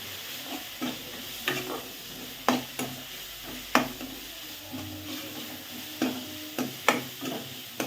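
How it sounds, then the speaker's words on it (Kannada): Fried tomatoes mixed with a ground spice paste sizzle in oil for a South Indian rasam, with a steady hiss under regular scraping, clacking stir strokes at roughly one-second intervals, close and alone. "ಈ ಟೈಮಲ್ಲಿ ನಾವು ರುಬ್ಬಿಟ್ಕೊಂಡಿರೋವಂತಹ ಮಿಶ್ರಣನ ಹಾಕಬೇಕು. ಹಾಕಿ ಕಲಿಸ್ಬೇಕು."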